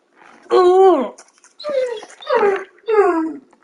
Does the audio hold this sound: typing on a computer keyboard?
no